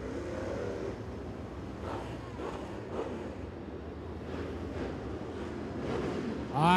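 A pack of crate late model race cars runs on the Crossville Speedway oval, a steady distant engine roar under wind and crowd wash, with a commentator talking over it.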